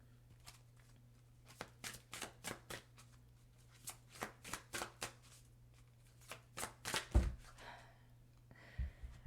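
Greenwich oracle cards being shuffled by hand: a run of quick, soft riffling bursts in a steady rhythm, close and quiet, ending with a few light thumps as the deck is handled.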